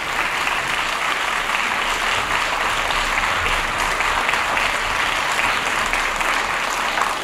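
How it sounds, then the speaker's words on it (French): An audience at a theatre event applauds guests with dense, steady clapping that holds at an even level throughout. "On vous demande d'applaudir tout d'abord Mélanie, s'il vous plaît."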